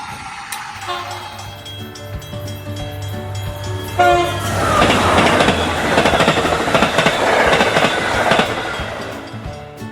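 Toy trains rumble and clatter along a magnetic-tile track with a rising rush of noise midway, wheels clicking steadily and a tonal hum underneath.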